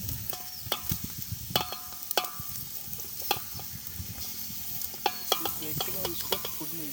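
Onion and tomato fry in a pan, a soft, quiet sizzle under regular scraping and clinking strokes as the mixture is stirred at close range.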